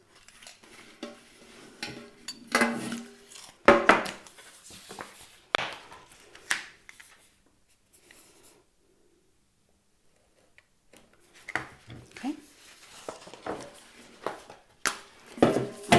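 Metal paint can being sliced and scraped with a blade while making a planter, giving scattered clinks, taps and scraping bursts that come and go, with a quiet gap in the middle.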